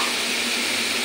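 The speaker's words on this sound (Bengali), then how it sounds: "লটকার শুটকিটা আমি আলাদা করে ভাজা করে নিই।" Dried lotka fish fries in hot oil, giving a dense, steady, close sizzle with no pauses and no talking.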